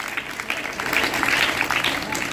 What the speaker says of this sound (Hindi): समीर कुमार के लिए जोरदार ताली।